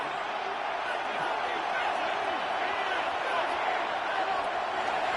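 Stadium crowd noise from a Madden football video game: a continuous, fairly loud roar and murmur of spectators that holds steady throughout with no voices standing out.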